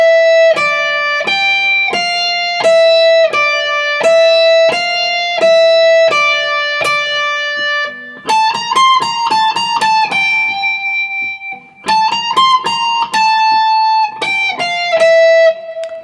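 Electric guitar line played through a whammy pedal pitched up an octave, for a piece from The Last of Us Season 2; bright, piercing repeated notes in quick, steady phrases, loud and alone.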